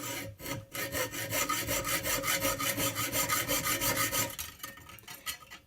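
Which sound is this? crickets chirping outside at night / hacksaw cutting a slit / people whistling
hacksaw cutting a slit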